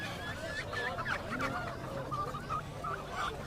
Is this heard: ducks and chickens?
yes